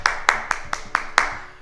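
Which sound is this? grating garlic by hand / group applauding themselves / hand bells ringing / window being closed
group applauding themselves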